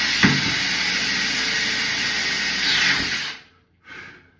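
A steady high-pitched drill whine as a 6mm bit bores into ceramic tile, running continuously before stopping, followed by a short burst of hiss.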